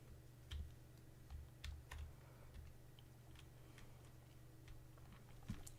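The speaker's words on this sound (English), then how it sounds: "I'm just hearing the ticking of my engine going so close to death." A failing aircraft engine in a flight combat video game ticks irregularly, with faint, quick clicks scattered over a low, steady engine hum.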